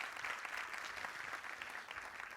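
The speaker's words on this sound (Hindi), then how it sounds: "एक बार तालियां प्लीज प्लीज." An audience at a preschool annual function in Gujarat, India, claps in steady, dense applause heard from a distance, fairly faint and without speech.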